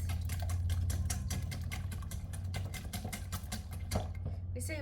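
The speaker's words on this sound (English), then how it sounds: "We say whisk or beat because this is a whisk." Eggs are whisked with a hand whisk in a bowl, making a fast, steady run of light tapping and scraping close by over a low background hum.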